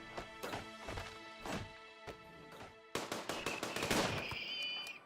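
Heavy SMG fire in the RimWorld video game comes as rapid bursts of sharp gunshots, spaced in short clusters early and then a dense, loud volley near the end, with no talk.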